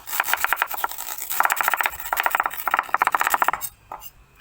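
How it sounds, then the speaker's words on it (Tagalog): Knife chopping onions into small pieces on a board, a fast, steady run of close, crisp cuts in quick bursts that stops abruptly near the end. "At ako'y maghihiwa ng aking mga sibuyas. Maghiwa lang ako ng maliliit."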